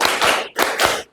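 Schoolchildren clap in a rhythmic pattern on a teacher's signal, a few close, loud bursts of many hands clapping together, fading out at the end.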